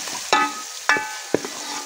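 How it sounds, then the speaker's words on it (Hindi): Ginger garlic paste is stirred into onions frying for a tinda gosht curry, with a soft sizzle under three distinct spoon strikes and scrapes against the pan, close up and with no talking. "अब हम डालेंगे इसमें अपना लहसुन अदरक का पेस्ट, ये डाल देंगे हम और इसको अच्छी तरह करेंगे मिक्स"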